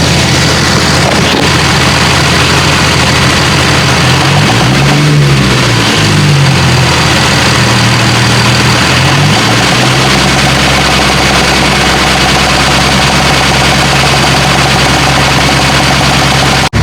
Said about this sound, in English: I'm going to put the mic near the engine bay, and so you guys can hear what I'm hearing.